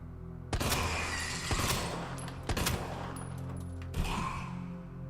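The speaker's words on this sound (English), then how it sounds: "I'm going to blast this with a Magnum" Magnum revolver shots fired at a licker in the Resident Evil 2 remake, three or four loud sharp blasts spaced about a second apart over a steady game soundscape.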